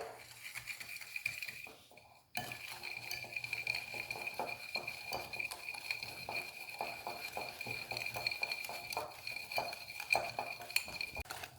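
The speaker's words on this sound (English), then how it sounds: "we'll mix the eggs, sugar," Eggs, sugar and corn flour whisked together in a bowl, a fast steady run of soft clinking taps of whisk against bowl, faint and close, continuing evenly after a brief pause near the start.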